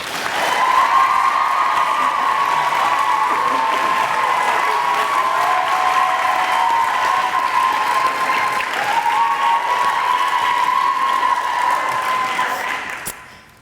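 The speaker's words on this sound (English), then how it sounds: "please clap your hands extra loudly for my little gym buddy, Margaret Sherman Cowens." A school audience at a senior speech gives sustained, loud applause that holds steady for over ten seconds before fading out, with no talk over it.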